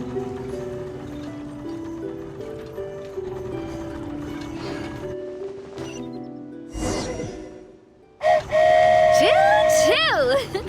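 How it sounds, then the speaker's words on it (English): A flying train pulls out in Genshin Impact, with a low rumbling drone and tonal music-like layers giving way to a loud, high rising whistle sweeping up and down in the final seconds. "Choo-choo! Aerial Express moving out."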